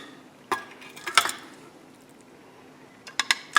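Salmon fillets being moved onto another plate, with a few sharp clinks of utensil on dishware, the clearest near the start and a cluster at the end, against quiet kitchen background.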